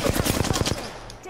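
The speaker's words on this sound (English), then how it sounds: "Taking fire." Rapid automatic gunfire in the video game Apex Legends, a burst of about ten close, loud shots in quick succession that stops abruptly, followed by quieter game ambience.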